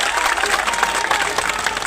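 Loud, dense applause from a large crowd at a political rally in Chanpatia, a steady unbroken wash of many hands clapping together for the full stretch.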